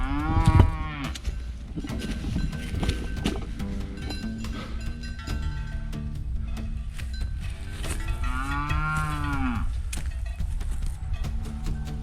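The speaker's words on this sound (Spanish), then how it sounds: "¿Un toro? ¿Una vaca? Es una vaca." A cow in a fire-scarred forest during a hike lets out two long, deep moos, one at the start and another near the end, close and loud against a quiet outdoor background.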